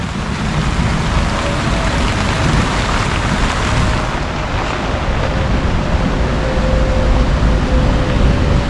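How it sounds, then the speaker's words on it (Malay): Heavy rain falling outdoors at a fishing spot, a loud, dense and continuous hiss of drops on water and surfaces with no talking. "Di tengah rakam ni hujan ni."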